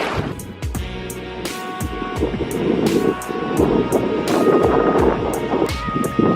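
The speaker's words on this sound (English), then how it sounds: "Going through some fun little rapids there." Canoe running small river rapids on the Orange River, with steady broadband rushing water and splashing that builds louder midway and stays close, broken by irregular knocks and paddle strokes.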